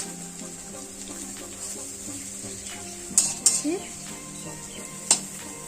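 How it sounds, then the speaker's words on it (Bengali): Dried lentil dumplings (bori) fry in a pan with a soft, low sizzle, and a few sharp utensil clinks against the pan near the end. "বড়াগুলো তৈরি হয়ে গেছে। তারপরে এগুলো লাল লাল করে ভেজে আর কি আমরা তুলে নেব।"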